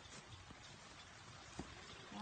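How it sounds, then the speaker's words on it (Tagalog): Rain falls steadily in an outdoor garden, a soft, faint, even patter with voices speaking quietly over it. "Umuulan."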